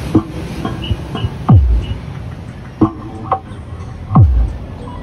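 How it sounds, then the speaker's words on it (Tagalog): Deep subwoofer bass thumps from a home setup of three amplifiers and a mixer, dropping in pitch in a few separate booming hits over a low background hum, loud and close. "Yan yung tunog ng ating sub mga boss."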